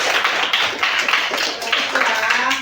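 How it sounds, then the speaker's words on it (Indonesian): Students in a classroom clap for a classmate, a close burst of uneven, rhythmic hand claps from a small group that pulses steadily for a few seconds. "Jadi bisa kasih tepuk tangan untuk temannya."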